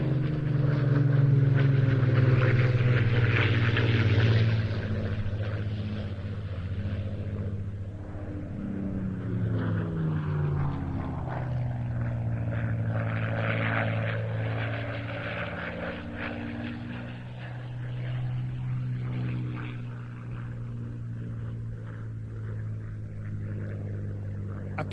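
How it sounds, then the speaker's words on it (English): Several Spitfires making a final low flypast at the Old Buckenham Airshow, a loud, deep propeller-engine roar that starts strongest and holds steady, slowly fading and shifting as the aircraft pass, with no talk over it. "final pass from our Spitfires"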